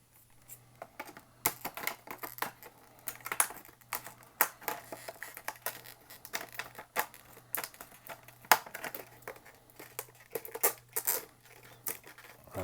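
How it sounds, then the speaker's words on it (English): Scissors cutting through plastic packaging around a Mini GT-style Nissan GT-R model car box, heard as a long run of sharp, close snips and crinkly crunches in an irregular rhythm, with no talking. "listen to me cutting plastic with scissors"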